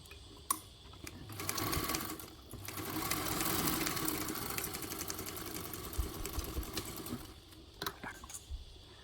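A sewing machine stitching an extended backpack strap with a D ring, running in long steady whirring bursts with short pauses and clicks between them, close and alone.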